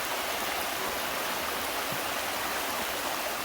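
Floodwater running as a stream beside a house after heavy rain, a steady broad rushing hiss that stays loud and unbroken throughout, with no voices.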